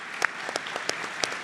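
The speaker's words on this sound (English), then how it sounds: "a big round of applause for Joshua and Valerie" Scattered hand claps from a convention audience at the 2026 Liberal National Convention, a light, uneven round of applause with distinct individual claps spread across the moment, moderately quiet.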